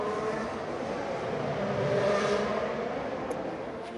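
Formula One racing car engines in the mobile game F1 Clash: a steady whirring engine drone that rises slightly in the middle, with a brief faint high whine near the end.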